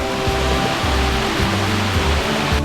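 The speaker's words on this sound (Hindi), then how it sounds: "ऐसे अनगिनत वाटरफॉल आते रहेंगे।" A waterfall on the Peb Fort trek near Matheran rushes in a dense, steady roar, close and continuous, with no voices over it.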